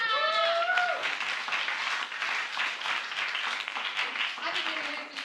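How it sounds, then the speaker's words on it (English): Audience applause at a Spoken Word London poetry event celebrating its anniversary, steady clapping throughout with whoops and cheers at the start and near the end. "give Patrick Cash a round of applause"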